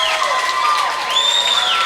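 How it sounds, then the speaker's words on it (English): Indoor crowd at a high school boys water polo state championship game murmuring and calling out as spectators file into the arena, a steady diffuse din with scattered shouts and whistles. "Crowd making some noise as they continue to file in"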